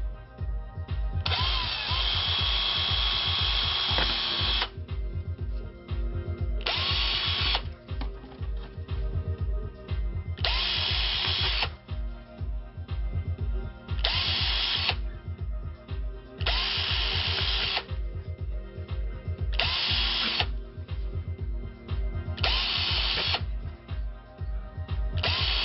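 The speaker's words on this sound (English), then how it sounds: "So we're going to pre-drill our holes." A power drill pre-drills screw holes in soft plastic for a Knight Rider Season 2 dash LCD and frame install, whirring loudly in about eight bursts of varying length separated by short pauses over a steady background hum.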